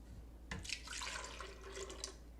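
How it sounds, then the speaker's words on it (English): Whole milk poured into a blender for crepe batter, a short splashing, gurgling pour over a low steady hum, close and fairly quiet. "So you just put in your milk."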